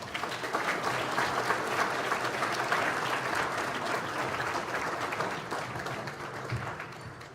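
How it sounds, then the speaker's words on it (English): Banquet hall audience at a hall-of-fame induction gives a sustained round of applause, dense steady clapping that eases slightly near the end. "And if we have a round of applause for Mr. Kim, even when he's not here"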